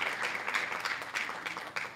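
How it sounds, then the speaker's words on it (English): An audience applauding at an arts awards ceremony in a music hall, a steady wash of many hands clapping close and loud, with small swells throughout. "You don't have to keep clapping."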